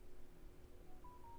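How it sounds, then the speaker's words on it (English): Phone notification tones chime on a phone, a couple of short, clear electronic beeps rising late in the moment over a low background hum, fairly faint and alone without talk. "Why is my phone blowing up?"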